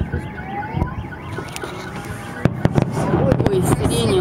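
A Victory Day fireworks salute over Moscow, seen from a high-rise: distant booms and sharp crackling bursts come in irregular clusters, with a wailing siren in the background and people talking throughout.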